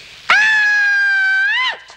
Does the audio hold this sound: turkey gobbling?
no